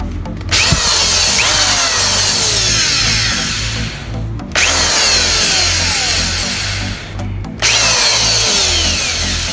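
A power drill runs hard in three long, loud bursts as its chuck is being removed, each whirring run broken by brief pauses, heard close with no talking.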